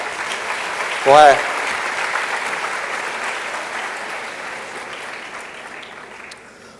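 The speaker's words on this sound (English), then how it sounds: "An applause for him." Audience applause at a women-in-innovation event, a brief burst of clapping rising over steady room noise and a spoken voice, then fading back under continued talk.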